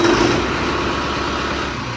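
A Mahindra Arjun NOVO 605 DI tractor with a newly fitted turbo runs right after starting, a loud steady close diesel drone with no voices.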